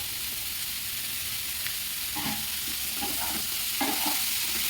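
Capsicum sizzles loudly in a pan of mixed vegetables under a steady frying hiss, with scraping stirs of a spatula heard several times near the end.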